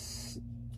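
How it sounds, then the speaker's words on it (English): A short, close hiss of hot spot spray being misted onto a dog, lasting under half a second, with a faint second puff just after. "we've got hot spot spray"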